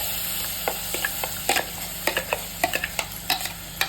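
Ground masala paste frying in hot oil in a kadai, with a steady low sizzle broken by irregular scraping stirs of a spoon against the pan, close up and without voices.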